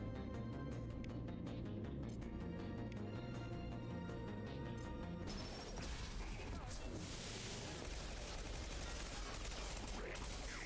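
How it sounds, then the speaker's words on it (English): Submachine gun fire in the video game Mass Effect 2: rapid, dense bursts of shots with crashing impacts, loud and continuous, growing busier and noisier partway through. "This is a submachine gun."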